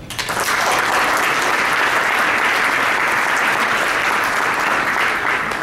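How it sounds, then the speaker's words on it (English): An audience applauds Jim Dotson at a presentation, with sustained, dense clapping that swells in within the first half second and holds steady and loud, no voices breaking through. "And a round of applause for him"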